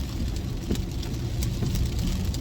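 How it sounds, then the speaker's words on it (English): Heavy rain, a dense, steady hiss of drops drumming on a surface, probably heard from inside a car, loud and continuous with no talking. "Oh man, it is raining a lot."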